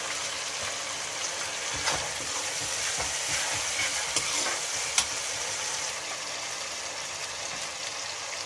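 Tomatoes and salt frying in a pan, a steady soft hiss of sizzling juice with occasional light stirring taps, fairly quiet and without speech.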